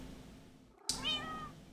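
A single clear cat meow from the video game Minecraft rises suddenly out of a low background hum, bright and close, with no speech around it.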